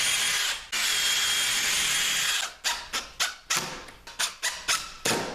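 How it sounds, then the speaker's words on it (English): A power drill bores pilot holes into a wooden door for deadbolt screws: one long, steady whine, then a run of short, sharp bursts as the trigger is pulsed again and again, close and loud. "I always recommend pilot holes so you don't split the wood."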